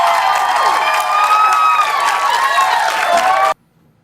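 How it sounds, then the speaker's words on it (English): A live studio audience applauds and cheers steadily for a few seconds, the clapping loud and continuous before cutting off abruptly into near silence. "That poor man that's clapping."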